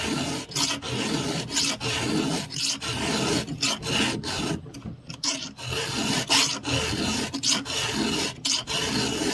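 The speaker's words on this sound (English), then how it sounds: "I back off on the pressure when I almost have the tooth sharp, and I just finish that edge" Hand file rasping across chainsaw teeth in steady, repeated close strokes, each a harsh scraping burst separated by short pauses, with the pressure lightening toward the end of the sharpening.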